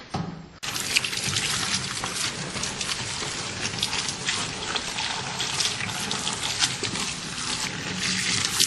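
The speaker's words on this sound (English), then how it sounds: "here's the apples that we're going to rinse off and make cider out of" Steady rush of tap water running over a batch of apples being rinsed for cider making, loud and continuous, starting abruptly after a brief quieter moment and carrying on alone with splashy texture.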